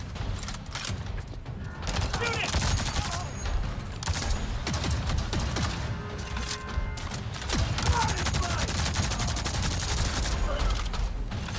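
Rapid gunfire from the player's weapon in Avatar Frontiers of Pandora, dense continuous bursts of shots layered over loud game action throughout, with no pauses.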